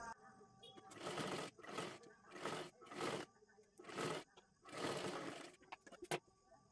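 Sewing machine stitching around a curve in saree fabric, heard as a series of short, close whirring bursts of stitching with brief stops between them.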